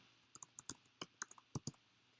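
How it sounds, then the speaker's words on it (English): Crisp mouse clicks and keyboard keystrokes tap out in a quick irregular series of about ten sharp, close clicks over a quiet background. "I can just double click it there and start typing"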